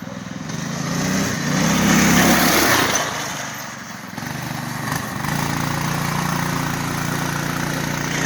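A go-kart engine runs steadily close by, a continuous buzzing drone that swells slightly early on and then settles into an even hum with no speech.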